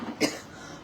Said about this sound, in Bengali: আমার কাশিটা তোমরা একটু বিয়ার করে নাও।